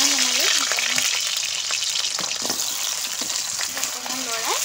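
Potatoes and kohlrabi fry in hot oil, giving a steady close crackle and sizzle with occasional scraping stirs of a utensil throughout.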